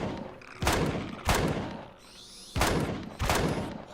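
Gunfire in the Empyrion video game: four loud, sharp shots in an uneven rhythm, each with a short ringing tail, close up and with no voices.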